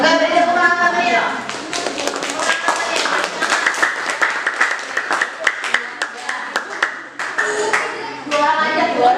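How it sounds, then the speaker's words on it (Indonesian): Classroom applause from students greeting a student group (group 5) presenting at the front, a run of light clapping and taps mixed with children's voices and a teacher talking over it throughout. "beri tepuk tangan kami yuk"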